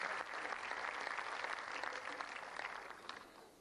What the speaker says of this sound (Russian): Аплодируем нашим участникам сегодняшнего фестиваля